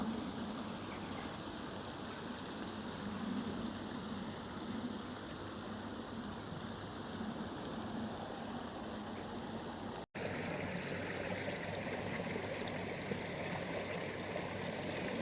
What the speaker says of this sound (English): Cracking wee bit of the bottom end of the waterfall there.